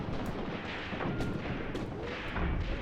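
A grenade bursts amid a Graviteam Tactics World War II firefight, loud dull booms landing over continuous crackling gunfire and distant artillery, with no voices.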